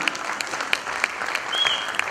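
Theatre audience applauding actors after a short play, a steady round of close clapping with a few sharp individual claps standing out and a brief whistle near the end.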